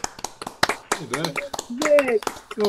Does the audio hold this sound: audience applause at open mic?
yes